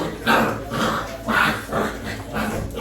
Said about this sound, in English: These dogs going crazy.